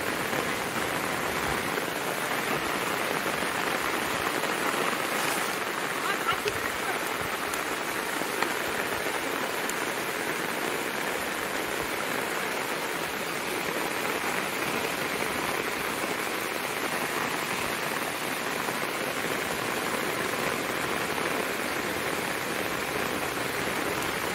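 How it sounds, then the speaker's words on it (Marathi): Heavy monsoon rain pours over a Konkan paddy field, a loud, continuous, even hiss of dense drops on water and ground with no pauses and no voices. "आज दुपारपासून पाऊस जास्त लागतोय"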